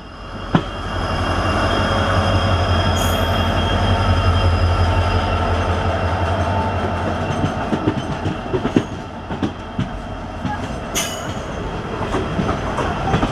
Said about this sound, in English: We are crossing a freight train through a loop line, hence the slowdown.